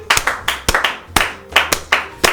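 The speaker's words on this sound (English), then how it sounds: "I'm clapping my goblin hands for you." A single person claps hands alone at a slow, uneven pace, about eight sharp, close claps in a row, each one ringing out briefly in a small room.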